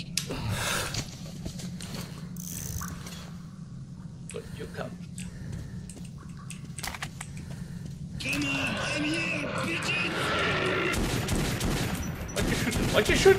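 Gunfire in the Metro 2033 video game comes as scattered sharp bursts over a low ambient hum, growing denser toward the end, with voices talking and whispering in between.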